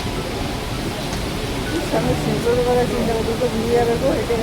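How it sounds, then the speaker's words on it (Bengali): Steady rain hisses in the background while a person talks over it, the downpour constant and fairly close throughout. "বৃষ্টি হচ্ছে, যে বৃষ্টির মধ্যে কি মুশকিল"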